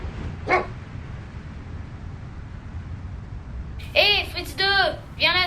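Fritz 2, a farmhouse dog, lets out a quick series of sharp, close barks and yips near the end, after a quiet stretch with one faint earlier call.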